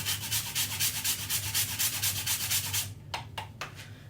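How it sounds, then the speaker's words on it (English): Frozen ginger is rubbed against a kitchen grater in quick, even rasping strokes, close and steady for about three seconds, followed by a few sharp taps. "I've got this ginger in the freezer that I'm gradually grating down for about a tablespoonful"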